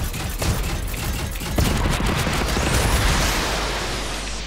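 Rapid video-game gunfire from a squad firefight, dense bursts and volleys crackling loudly and almost continuously throughout, with no voices over it.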